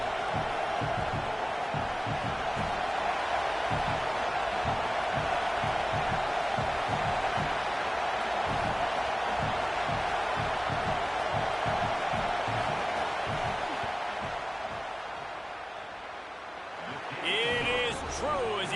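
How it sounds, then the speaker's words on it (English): A stadium crowd roars in a college football video game during a field goal attempt, a continuous loud wash of noise with commentators talking over it. "This crowd trying to do its part to get inside the kicker's head."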